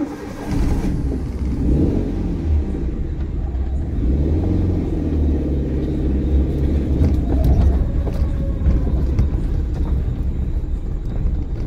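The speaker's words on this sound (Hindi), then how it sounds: "वैगनर चला रहा हूँ फर्स्ट" A Maruti WagonR car pulls away in first gear, its engine rumbling steadily and revving up close and loud from start to finish, with no talk over it.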